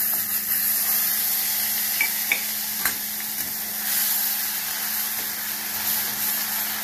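Bottle gourd peel paste with nigella seeds, salt and turmeric cooks in a pan, giving a steady close sizzle and hiss with a few scraping stirs of a spoon, no voices over it.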